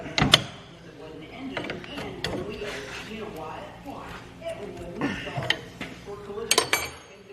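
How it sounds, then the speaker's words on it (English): A wrench tightens a jam nut on farm harvest equipment, with repeated metallic clanks, clicks and ratcheting at close range, and a voice speaking over part of it. "Tighten your jam nut back up."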